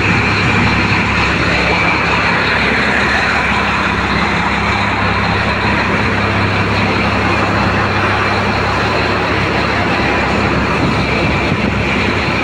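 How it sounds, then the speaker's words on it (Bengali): A ferry's engine runs at the Babuganj crossing, giving a loud, steady, unbroken mechanical drone with a deep rumble that holds even for the whole stretch. "এই যে দেখুন মেশিন চলছে, ফেরি চলছে।"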